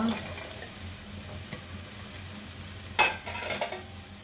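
Mushroom stems, pointed gourd and snake gourd fry in a hot pan with oil, giving a steady soft sizzle close by, broken by a few clinks and scrapes of a spatula stirring.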